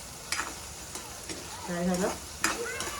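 Patodi fries in hot oil, a close crackling sizzle with scraping stirs and a few sharp clatters, and a voice speaks briefly over it.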